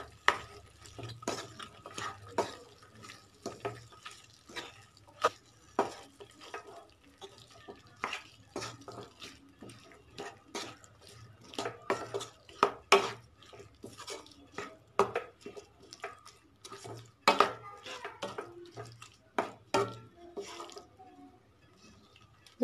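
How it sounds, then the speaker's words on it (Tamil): Cabbage and potato curry with salt is stirred in a pot, producing irregular wet scraping and knocking strokes of varied loudness, close by, over a faint low hum. "இப்போ இதை நல்லா மிக்ஸ் பண்ணி விட்டுறலாம்."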